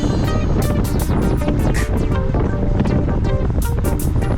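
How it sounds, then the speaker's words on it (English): A strong headwind buffets a moving cyclist's microphone on a summer ride, producing a loud, continuous low roar and rumble that fills the whole stretch without letup. "And we're going into the wind."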